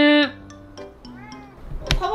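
A ginger cat gives a few short meows near the microphone, with a louder, sharper cry at the end.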